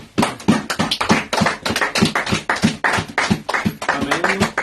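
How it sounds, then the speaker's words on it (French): A church congregation claps loudly and rhythmically in close, dense bursts that keep a steady beat throughout. "Nous applaudissons la parole de Dieu."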